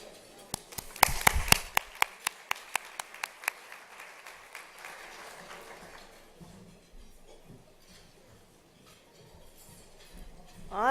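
Gala audience applauding the event sponsors, opening with a series of sharp, evenly spaced claps that swell into sustained clapping from a crowd, then thin out and fade.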